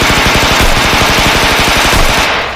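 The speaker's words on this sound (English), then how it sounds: "Gunfire erupted, tearing through the silence of the forest." Sustained rapid automatic gunfire rips through a forest at night during a military raid on a kidnappers' hideout, loud and continuous with dense repeating bursts and no voices.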